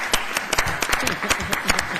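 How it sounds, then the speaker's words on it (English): A school district board meeting audience applauds student track athletes, a dense patter of clapping from a room full of people, with voices and chatter mixed in throughout. "How about a big round of applause for them?"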